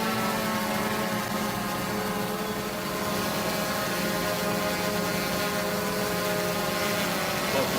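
DJI Mavic 2 drone hovering low over rippling water, its propellers giving a steady, continuous whine with stable tones throughout, close and moderately loud, no voices.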